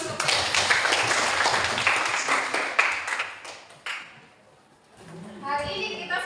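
Students applauding in a classroom: sustained, fairly loud clapping from a group fills the first four seconds, then fades to near quiet before voices begin speaking.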